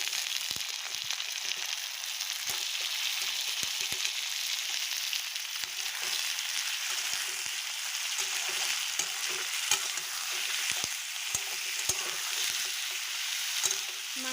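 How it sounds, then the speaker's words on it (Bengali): Chicken meat frying in a little oil after browned onions in a village-style home kitchen, giving a steady, continuous sizzle with occasional stirring scrapes throughout, close and fairly loud with no talk. "মাংসটা অল্প তেলের মধ্যে ভাজা ভাজা করে নেব।"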